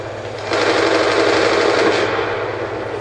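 Rapid automatic gunfire in the Call of Duty Black Ops II online game, a dense continuous burst of shots that starts abruptly and holds loud and steady to the end.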